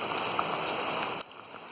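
Steady hiss of rain falling outdoors on the John Muir Trail, a soft even patter that drops slightly in level partway through, with no one speaking.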